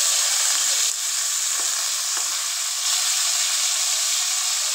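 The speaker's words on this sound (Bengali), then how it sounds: "এই মাছটা ভাজা হলে আমি ইলিশ মাছটা ভাজা নিব" Hilsa fish frying in a pan gives a steady, loud, broadband sizzle and hiss that holds without a break, with a few faint clinks underneath.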